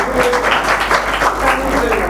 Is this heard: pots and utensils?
no